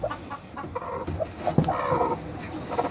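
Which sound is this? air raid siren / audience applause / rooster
rooster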